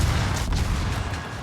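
Naval guns aboard the Ragnar firing in World of Warships: a short, heavy booming blast with a deep rumbling tail, loud and close, no voice.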